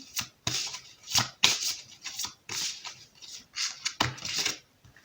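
A deck of tarot cards is shuffled close up in quick bursts of riffling and sliding, about ten short rustling bouts separated by brief pauses, with no talking.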